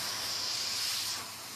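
A paint spray gun hisses steadily as it sprays Dixie Belle paint, a close, continuous airy spray that eases off slightly toward the end.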